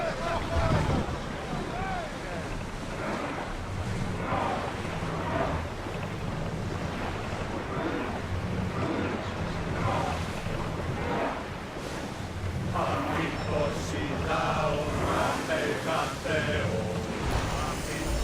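A sailing ship cuts across open sea in Assassin's Creed Odyssey, with a steady wash of waves and wind rushing over the hull and voices speaking over the constant roar.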